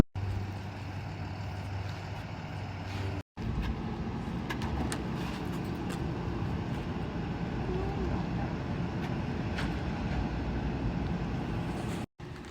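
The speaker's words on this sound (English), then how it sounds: "So I had the tow truck come and pick it up." A tow truck arrives to haul away a broken-down car, its engine giving a steady, close, low rumble that runs almost unbroken apart from two brief cuts.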